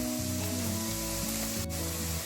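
Pakora mixture sautéed gently in a pan for a Punjabi-style curry pakora, a steady close sizzle with a low tonal hum running underneath and one brief sharp click midway, no voices.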